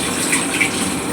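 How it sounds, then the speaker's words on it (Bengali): Broth poured into a pot of fish curry, a steady gushing liquid sound that runs unbroken, fairly close and moderately loud, with no voices. "আমি ঝোল দিয়ে দিব।"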